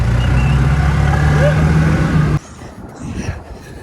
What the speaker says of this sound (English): Okay, so we're in the lifeguard car.